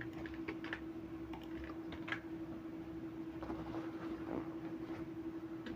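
Soft computer-keyboard typing while coding, scattered irregular keystrokes fairly close but quiet over a steady low hum and background noise.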